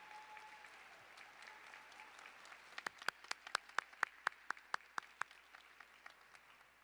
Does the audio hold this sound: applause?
yes